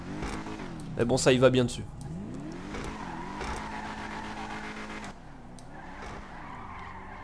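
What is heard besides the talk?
Albany V-STR car engine in GTA Online video game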